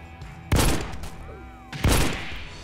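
Two loud, sharp revolver shots from the video game Wild Revolvers, about a second and a half apart, each with a ringing decay and some game background sound between them.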